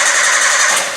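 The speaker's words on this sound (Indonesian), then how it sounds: "mesin mobil tidak mau hidup, ya. Berkali-kali di starter masih tetap tidak mau hidup" A fuel-injected car engine cranks on the starter without catching, a loud, continuous whirring churn with a faint squeal, close by and with no talking.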